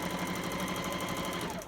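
A sewing machine runs steadily, stitching a wet bag closed, with a rapid, even needle clatter close by and no voices.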